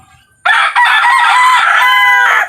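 Lemon Sweater gamecock rooster gives one loud, close crow that starts abruptly and holds steady for about two seconds, with no talking.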